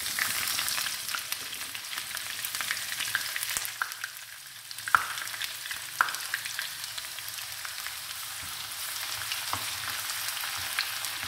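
Onions with cumin seeds frying in hot desi ghee over a low flame, a steady soft sizzle with occasional faint stirring clicks and a brief dip in intensity partway through.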